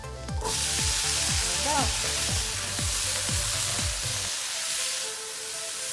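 Vegetables sauté in a hot pan with loud, close sizzling and repeated scraping stirs. The sizzling drops sharply near the end, and a voice briefly speaks over it.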